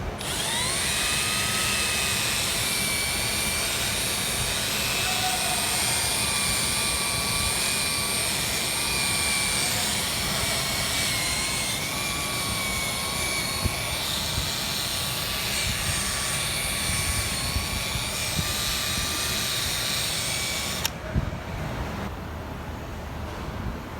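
A tail light being sanded with a 3000-grit scuffing pad, likely on a power tool, gives a steady high whine with a continuous abrasive hiss that runs unbroken for about twenty seconds before cutting off abruptly.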